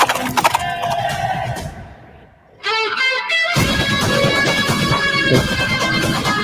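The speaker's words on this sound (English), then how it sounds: "There's the horse we heard in the other one." A horse whinnies loudly, a shrill rising neigh, amid a busy, dense mix of music and effects from a Kannada film teaser that drops out briefly before resuming.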